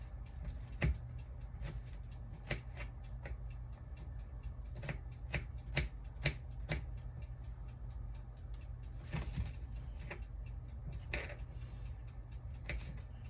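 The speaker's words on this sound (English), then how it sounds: "These are red onions. I'm going to cut them up in little small chunks." A knife chops red onions into small chunks on a cutting board, giving quiet, irregular taps and clicks against low background noise.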